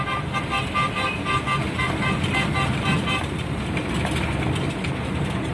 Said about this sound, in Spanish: Miren ahí ese otro coche de transporte público también